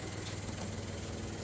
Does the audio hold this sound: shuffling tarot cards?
no